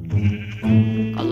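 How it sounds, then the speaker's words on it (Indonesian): A sheep bleats twice in the video game Minecraft, two close, loud wavering calls heard alone. "Surganya para domba nih"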